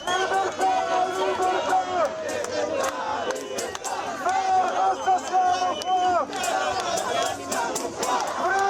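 Loud, agitated crowd of pro-Palestine protesters surging through a city square during clashes, with constant shouting and battle cries, overlapping voices and scattered yells filling the whole stretch without letting up.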